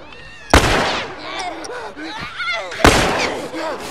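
Two sharp, loud gunshots ring out a couple of seconds apart in The Last of Us, amid game sound effects and background noise, with a voice talking over them.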